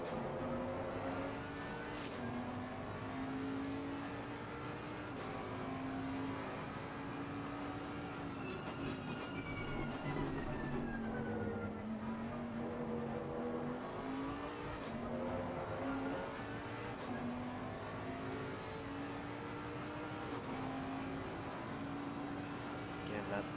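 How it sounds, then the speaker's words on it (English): Bentley GT race car in the Assetto Corsa Competizione racing game at Zolder, engine droning steadily with rising and falling pitch through gear changes, other cars nearby, under continuous commentary. "Get a good idea of what this Bentley is doing for Anthony"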